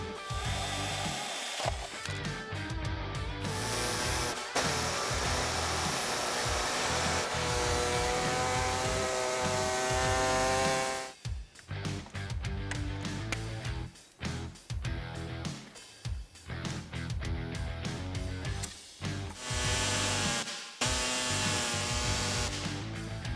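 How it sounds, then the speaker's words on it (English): A power tool cuts a plastic piece for a GM TH200/TH350/TH400 side detent shifter, loud continuous whining and grinding with several brief pauses and restarts as the cut proceeds. "I'm going to start making my preliminary cuts to that plastic piece"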